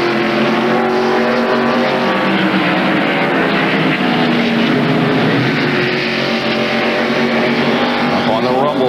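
Stock cars race at the 1997 Save Mart Supermarkets 300 road course, their engines roaring loud and continuous with rising and falling pitch as they pass at speed, while a commentator talks over them.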